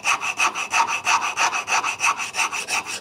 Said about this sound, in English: I'm using a rasp